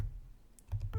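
Keys tapped on a computer keyboard while entering an npm install command: a short burst of quiet, close clicks in the second half, with a low hum beneath.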